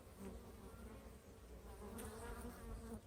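Honeybees from a swarm colony buzz around the hive entrance, a faint, steady drone of many wings, near and continuous, with occasional louder passes as individual bees fly close.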